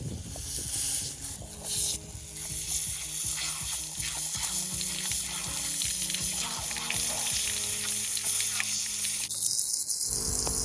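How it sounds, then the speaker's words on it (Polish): A hose sprays water over a horse's legs to cool them after a trail ride at a stable: a steady, close hiss of running water that continues through the whole stretch with small shifts in flow. "Po terenie chłodzę Aaronowi nóżki i jak widzieliście przed chwilą, to on naprawdę bardzo lubi wodę"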